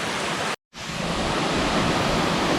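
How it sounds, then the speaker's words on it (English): Steady broadband roar of a waterfall crashing into a river by a ruined mill, heard up close and loud, broken by one brief dropout near the start before the constant rush resumes. "We're now at the bottom of the waterfall."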